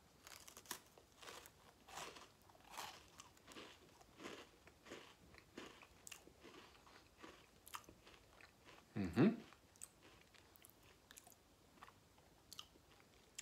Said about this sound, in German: Keks ist schön knusprig, der ist nicht labbrig, der ist fest.